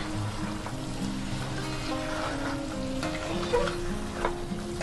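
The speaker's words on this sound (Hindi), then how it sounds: "और अब हम इसे अच्छे से मिक्स करते हैं।" Spiced mutton for mutton rosh, coarsely pounded with coriander powder, black pepper and salt, is stirred and mixed in a pan, giving a steady close sizzle with soft scraping and stirring throughout.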